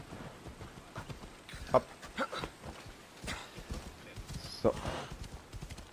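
A horse's hooves clip-clop in Assassin's Creed Odyssey as a few faint, spaced clops sound, with a person briefly speaking.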